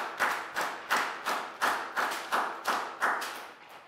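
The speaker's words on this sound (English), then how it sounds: "So a big round of applause for everyone." A primary school class gives faint, evenly spaced claps, about ten hits with a steady rhythm, each one a soft thud with a short decay.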